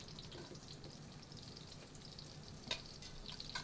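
Minced onion sizzles in melted butter in a pan, a steady, soft crackling hiss with a few brighter pops, heard close up without talk.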